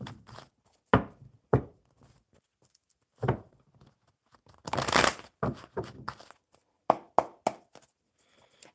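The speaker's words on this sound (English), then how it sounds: "So Sunnil, I'm going to shuffle the oracle for you" Oracle cards shuffled by hand, giving a series of crisp riffling bursts and soft slaps at irregular intervals, fairly close and clear, with no voices.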